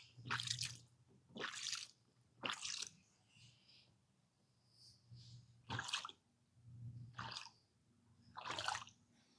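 A dog drinks water, giving short wet lapping and splashing bursts that come roughly every second or two, separated by quiet pauses, close and fairly soft.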